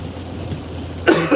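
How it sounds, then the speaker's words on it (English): Rain begins falling during a tornado storm in Southwest Florida, a steady low wash that swells into louder bursts of spatter near the end. "Starting to rain here."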